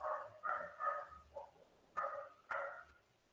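A dog barks in a quiet room, a quick series of sharp, moderately distant barks in two bursts with brief gaps between them and low background hum, no talking.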